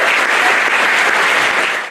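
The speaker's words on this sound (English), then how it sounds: "A round of applause for Bentley." Short burst of applause from an audience at a Mainely Motorsports TV event honoring Bentley, a dense, even clatter of many hands that fades slightly at the end.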